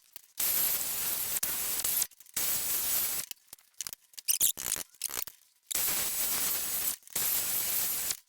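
A spray gun hisses in long, steady bursts inside a makeshift spray booth set up on trestles for painting old tractor parts, with short silent pauses between passes and a few brief sputtering spurts.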